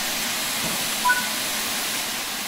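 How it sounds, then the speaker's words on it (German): Steady, hissing rush of steam vents from the opened cylinder cocks of a steam locomotive in Train Sim World 4, an even, moderately loud release with no break and no voices. "Öffnen Sie die Zylinderhähne, um jegliches Wasser aus den Zylindern auszulassen"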